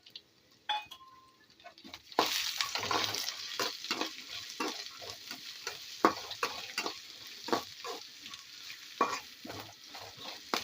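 Long strips of ginger sizzle and fry in a pan as a spoon stirs them repeatedly with scraping clinks, a steady crackling hiss underneath while preparing a Kerala-style beef roast.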